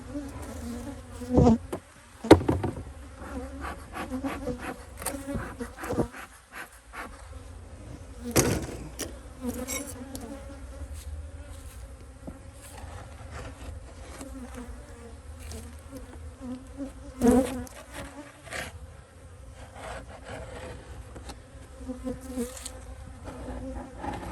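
Honey bees swarm around an opened hive in an apiary, making a dense, steady buzz throughout, broken by a few sharp knocks and thumps from hive parts being handled.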